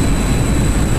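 MiG-21 jet climbing in the DCS flight simulator game, a loud, steady low engine roar with a thin high whine on top, sustained and unbroken, no voices over it.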